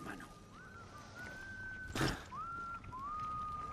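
Thin, wavering whistles sound in the video game Far Cry 6, several drawn-out tones with a brief burst of noise in the middle, quiet over a faint background.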